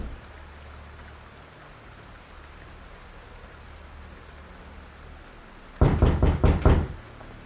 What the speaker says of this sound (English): I'll knock one more time.